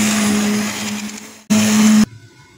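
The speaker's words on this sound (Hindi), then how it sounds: "अब हम हैंड ब्लेंडर से इसे ब्लेंड कर लें।" A hand blender whirs steadily through thick cooked beef haleem in a pot for about a second and a half. It cuts off, then gives a second short, loud burst before stopping.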